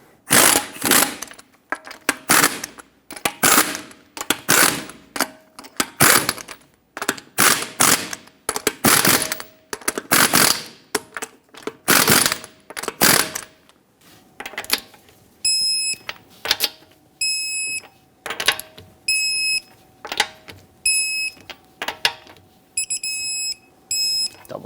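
An impact or ratchet wrench tightens lug nuts in a cross pattern to 79 foot-pounds on a 2013-2018 Hyundai Santa Fe, giving repeated loud bursts of rattling with short pauses, then lighter clicking and a series of high beeps.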